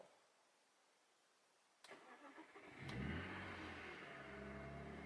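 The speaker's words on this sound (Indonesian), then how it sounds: "Nah kita coba nyalakan mesinnya sekarang." A cold BMW car engine starts up: a quiet lull, a sharp click, then the starter cranks briefly before the engine catches, revs up and settles into a steady idle close by.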